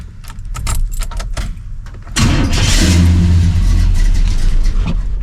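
Blueprint Engines 350 V8 in a car cranked and fired up after keys jangle near the ignition, catching with a loud rev and settling into a steady, rumbling idle close by.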